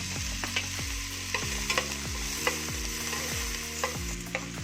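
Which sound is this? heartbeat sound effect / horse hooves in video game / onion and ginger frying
onion and ginger frying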